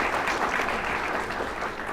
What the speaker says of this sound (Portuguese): Uma salva de palmas, que esse menino não perde um concerto.